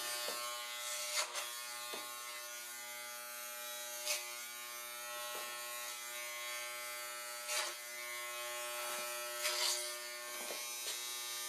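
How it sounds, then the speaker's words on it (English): An electric razor buzzes steadily and close up while shaving sideburns, its tone dipping briefly at intervals as it presses against hair, with no voices. "it looks like I made a mistake when I was shaving my sideburns"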